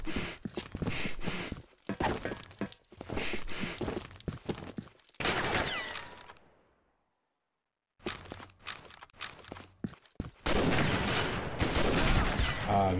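Bursts of rapid Combat Arms gunfire crackle in volleys with brief pauses and a silent gap midway, some overlapping sharp impacts and shattering effects.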